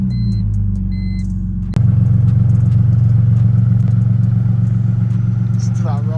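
A BMW E46 cranks and fires up with a sharp start, then settles into a loud, steady low rumble at idle close by, following a quieter hum before ignition.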